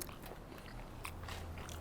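Crunchy bites into a baked peach dessert with firm peach pieces, cooked in an Ooni Koda 16 pizza oven; a few close, crisp chewing crunches repeat quietly, with a louder bite at the end and no talk.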